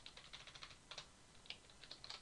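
Typing on a computer keyboard while writing Java code: a quiet, steady patter of individual key clicks in quick irregular bursts, with no voice over it.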